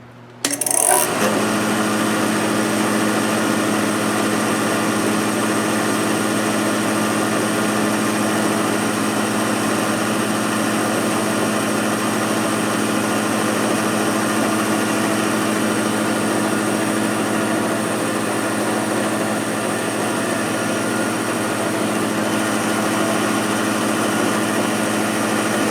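A steady high-pitched whine of a sharpening grinder dressing an end mill, droning evenly from start to finish after a brief clatter at the outset, with no talk.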